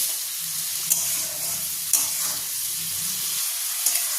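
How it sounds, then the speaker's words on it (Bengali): Marinated prawns fry in a pan with a steady bright sizzle, joined by a few sharp clinks of stirring about once a second. "দেখো 1 মিনিটের মতন আমাদের চিংড়ি মাছগুলো ভাজা হয়ে গেছে।"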